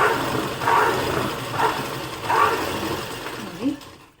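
A sewing machine stitches cloth for a door mat in short bursts of mechanical whirring, about three close runs separated by brief pauses, with a faint voice in the background.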